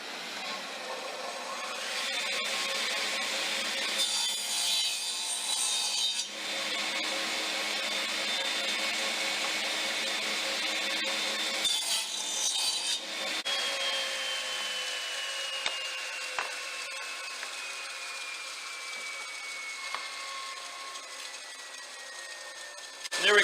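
A radial arm saw cuts wooden coaster pieces set against a stop block, giving a loud, continuous whining roar that holds for most of the stretch with short changes in pitch, and no voices over it.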